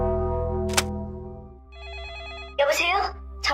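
Telephone ringing for an emergency call to a police station in Henan Province, China: a short electronic ring burst in the middle, with a voice talking before and after it.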